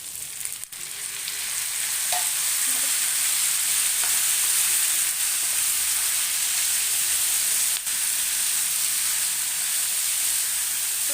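Tomatoes fry in a hot pan for a South Indian style chicken gravy, giving a steady, loud sizzle that carries on without a break, with a couple of faint stirring clinks early on.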